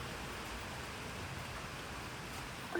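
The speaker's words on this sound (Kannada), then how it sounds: "ಏನು ಮಳೆ ಬರಾತ್ಬಿಟ್ಟೈತಲ್ಲ." Rain falls in a steady, soft, even hiss that never changes in level, with no voices over it.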